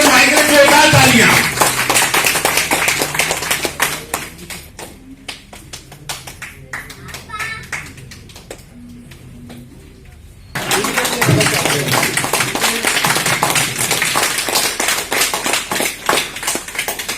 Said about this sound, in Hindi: यदुनंदन भाई के जोरदार तालियां।